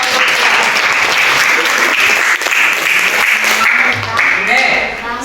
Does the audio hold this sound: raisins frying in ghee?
no